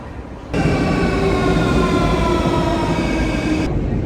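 An Athens metro train runs at speed with a steady, loud rumble and a sustained whining hum for several seconds, then settles back to a quieter background.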